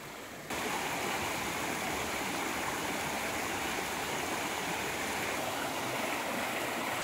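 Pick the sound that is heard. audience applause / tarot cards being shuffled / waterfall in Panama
waterfall in Panama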